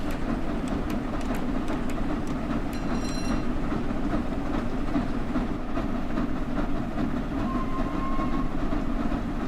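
A train in Train Sim World 5 runs on the West Coast Main Line between Preston and Carlisle with a steady loud rolling rumble, rhythmic rail clicks and brief high squeals.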